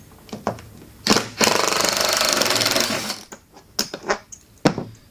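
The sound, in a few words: power tool removing long screw from amplifier crate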